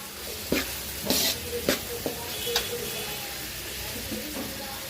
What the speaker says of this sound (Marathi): हा कांदा परतवलेला आहे. पहिली मोहरी घालून त्याच्यात कांदा घातलेला आहे.